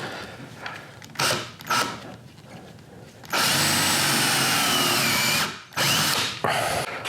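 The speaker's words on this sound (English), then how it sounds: "And I'm gonna drill a 3/8 inch hole here." A power drill bores a 3/8 inch hole in a wood bowl blank: two short trigger bursts, then a sustained loud whirring grind for about two seconds, then a couple more quick bursts, close by.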